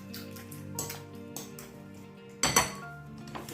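A tuna mixture for a quiche is stirred in a bowl, with soft scraping and a few light clinks of a utensil against the dish, including one sharper knock partway through.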